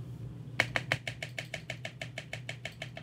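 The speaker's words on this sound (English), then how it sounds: "I have been trying to make the space bar sound good" A mechanical keyboard space bar, clipped, lubed and Band-Aid modded, is pressed repeatedly in a fast steady rhythm, each press giving a sharp close clack with a slight rattle, over a low background hum.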